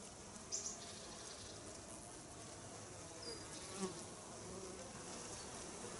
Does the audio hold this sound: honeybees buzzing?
yes